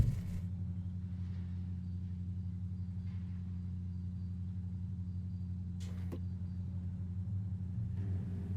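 A car in L.A. Noire drives along with a steady low engine drone and road rumble, holding an even level throughout, with a couple of faint brief rattles and no talking.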